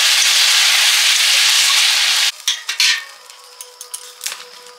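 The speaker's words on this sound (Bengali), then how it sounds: "এবারে জল দিয়ে দেবো।" Water poured into a hot pan of braised meat, a loud steady hiss that cuts off abruptly, followed by a few clinks of utensils against the pot.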